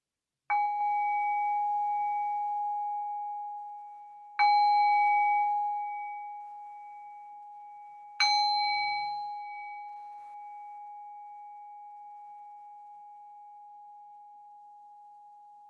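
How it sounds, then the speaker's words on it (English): A meditation bell rings three times, each clear bright strike several seconds apart and left to decay into a long sustained tone that fades slowly in silence. "And now I'll ring the bell 3 times to cue the end of this practice"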